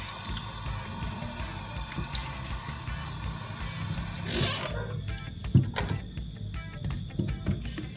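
Tap water runs steadily into a sink while green plantains are rinsed, a constant hiss that stops midway, followed by wet handling knocks and rubbing in the basin.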